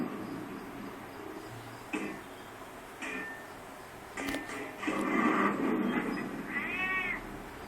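A cat meows once, a clear rising-and-falling cry near the end, preceded by soft rustling and a few light knocks.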